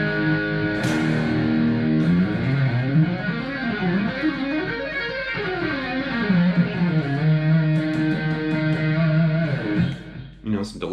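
Electric guitar through an amp set to factory preset 2B, a big, heavy 80s distorted tone with delay and reverb, playing loud sustained lines with sweeping pitch bends that fill the whole stretch.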